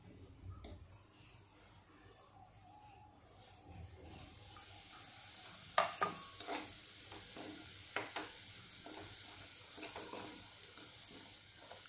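Semolina (rava) tipped into hot ghee in a pan for banana and jaggery sheera, bursting into a steady loud sizzle after a quieter start, with scraping stirs of a spoon at intervals.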